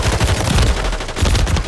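Gunfire in Fortnite, a loud, close burst of rapid shots rattling in quick succession for under two seconds.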